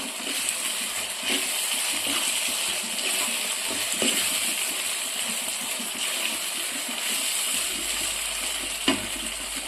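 A continuous sizzle of tomatoes frying in a pan, steady and close, with faint occasional clinks and no talking.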